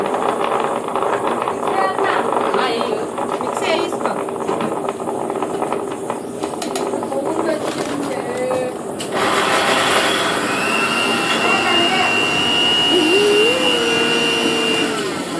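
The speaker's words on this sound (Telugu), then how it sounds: "మిక్సీ వేసుకో" A mixer grinder runs with a steady, loud whirring roar that fills the room, grinding tomato chutney, with faint voices underneath.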